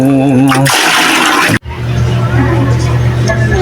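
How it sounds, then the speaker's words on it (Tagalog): Water is poured in a bathroom in a loud, rushing splash and gush that runs continuously apart from a brief break, with a voice heard at the start. "tapos na po tayong magisalin ng tubig sa banyo"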